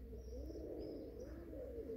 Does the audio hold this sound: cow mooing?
no